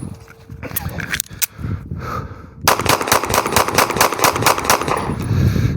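A Turkish-made Canik handgun fires rapidly at a range, starting with scattered shots and then a fast, steady string of loud, close reports, with a voice talking over part of it.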